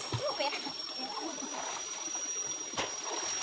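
Water splashes and sloshes close by as someone bathes in a rocky, fairly deep stream, a steady watery wash with a sharper splash near the start and a faint high tone running throughout.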